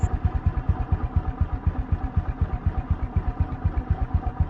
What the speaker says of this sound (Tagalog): Doon na may motor nga nihunong sa gawas.